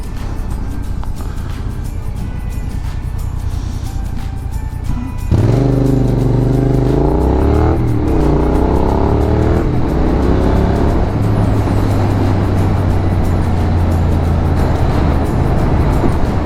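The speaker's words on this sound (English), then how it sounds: "So many cars. I wasn't expecting to see so many cars" Traffic streams past on a London street, heard from a motorcycle whose engine rumbles and revs loudly up close. Passing cars blend with the bike's changing engine pitch in a steady, dense roar.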